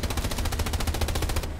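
Rapid machine-gun fire from a tank in a combat video game, a steady stream of evenly spaced loud shots over a low engine rumble, cutting off abruptly near the end.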